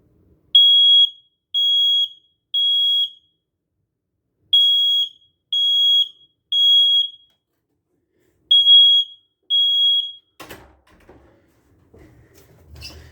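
Smoke alarm in a house hallway under test gives three sets of three shrill, loud electronic beeps with brief pauses, followed by faint rustling and handling noises after the beeping stops.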